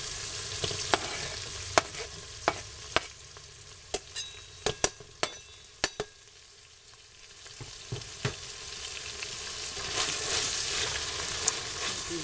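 Garlic, jalapeno and onion sizzle in an Instant Pot with a constant frying hiss, punctuated by sharp, irregular clicks and taps of a utensil stirring against the pot.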